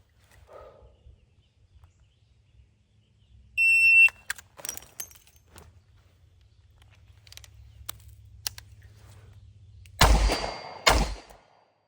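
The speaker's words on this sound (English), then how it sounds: "initiate my reload on the beep, reload 2, and get back into the shooting" A 5-shot revolver drill: a shot timer beeps, then keys-like metallic clicks of a reload with a speed strip, followed by two loud gunshots at the end, close and sharp against a quiet low hum.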